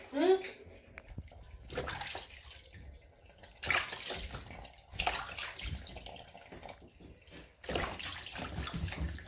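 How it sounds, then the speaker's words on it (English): Goat head for Nigerian isi ewu pepper soup washed under running water, a steady splashing stream with bursts of scrubbing and handling, close and moderately loud, while a person talks over it. "let me give the Isi Ewu a nice wash, a very nice wash"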